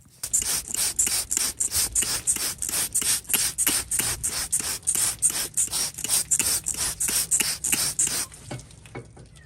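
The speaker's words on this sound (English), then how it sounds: "I'm gonna get this foot scraped down." A hoof knife scrapes down a cow's hoof during trimming in a rapid, steady series of short rasping strokes, close and fairly loud, alone without talk.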